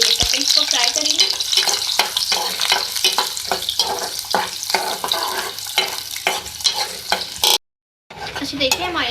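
Chopped onion and green chillies frying in hot oil for a masoor dal and ridge gourd dish, a loud steady sizzle broken by regular scraping stirs, then a brief drop to silence near the end before the sizzle returns.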